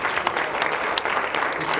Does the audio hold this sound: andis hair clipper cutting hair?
no